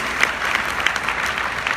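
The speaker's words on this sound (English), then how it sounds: "give him a big round of applause" A conference crowd in Orlando gives a round of applause, steady and fairly loud, continuous clapping throughout with a few sharper individual claps standing out.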